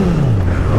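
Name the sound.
2011 Honda CBR1000RR Fireblade revving with Yoshimura exhaust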